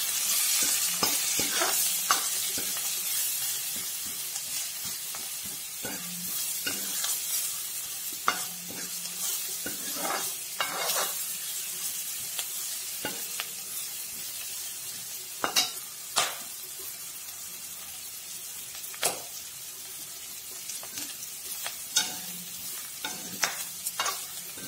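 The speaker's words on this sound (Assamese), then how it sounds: "সেইখিনি এতিয়া ভালদৰে ভাজি লওঁ।" Spices (garlic, chilli, cumin powder, turmeric, salt) frying in an iron wok, a steady hiss of sizzling oil with sharp scraping stir strokes at irregular intervals, close and continuous, with no talking.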